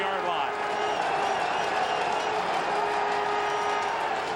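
A steady, loud stadium crowd roar from a 2007 CFL East Semi-Final football game, Montreal Alouettes at Winnipeg Blue Bombers, sustained throughout without breaks.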